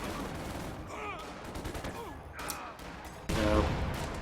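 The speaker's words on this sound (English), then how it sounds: "So we'll get a grenade on these Panzer Grenadiers." In a Company of Heroes 2 battle, a grenade is thrown at Panzer Grenadiers amid dense wartime game audio, with scattered gunfire, sharp bursts and a heavy blast near the end, all under continuous, noisy battle ambience.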